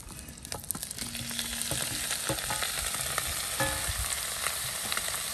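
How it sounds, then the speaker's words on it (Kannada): Half a kilo of packaged paneer fries in half a cup of hot oil, giving a loud continuous close sizzle with scattered pops and clicks of stirring throughout. "ಈಗ ಇದಕ್ಕೆ 1/2 ಕೆಜಿ ಅಷ್ಟು ಪನೀರ್ ಅನ್ನು ಹಾಕ್ತಾ ಇದೀನಿ"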